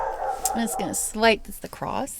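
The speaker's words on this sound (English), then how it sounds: "That's the dog from the cottage next door." Dog at a neighbouring lakeside cottage barks and yips a few times at a distance, mixed in with someone speaking close by.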